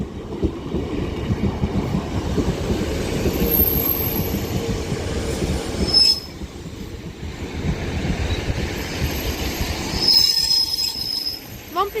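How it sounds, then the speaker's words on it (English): Northern Class 156 and 150 diesel units arriving at Liverpool South Parkway, with loud, sustained wheel squeal and rolling rumble building over several seconds, then shrill high-pitched screeches near the end. "The train that's just arriving in is going to be a Northern Class 156 and 150 for Liverpool Lime Street"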